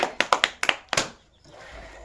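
Children at a prize-giving contest clap their hands in a quick burst of about seven sharp, close claps, each ringing briefly, before the sound fades into quiet room noise.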